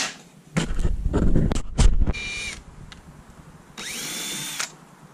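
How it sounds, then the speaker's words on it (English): A power drill whirs in several short bursts, loud and close, with pauses between, then one longer high-pitched run near the end, drilling holes in wood for a pizza truck service window. "we are drilling out holes"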